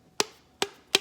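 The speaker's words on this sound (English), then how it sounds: "if I take a teeny bit of this rubber band, I shorten it," Three sharp, bright twangs from a shortened piece of big rubber band plucked high-pitched, evenly spaced and close, each decaying quickly with no talking.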